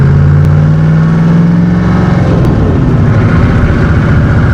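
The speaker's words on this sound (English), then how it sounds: "Yeah, you'll hear all 8 cylinders there." Range Rover V8 engine revving loud and close at its snorkel air intake, a steady deep roar with rising and falling pitch, heard alone.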